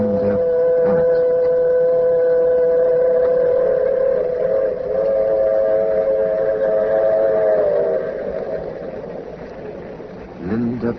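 A train rumbles steadily while a long, drawn-out whistle sounds for several seconds, then fades as the rolling noise continues.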